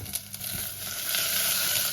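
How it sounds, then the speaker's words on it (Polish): Chopped onion sizzling in hot rapeseed oil in a saucepan: a continuous, even frying hiss that builds slightly over two seconds, close and moderately quiet, with no talking. "Do rondla z rozgrzanym olejem rzepakowym wrzucamy pokrojoną cebulę."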